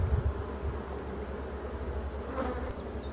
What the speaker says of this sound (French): Alors là, on peut voir que les abeilles se sont calmées.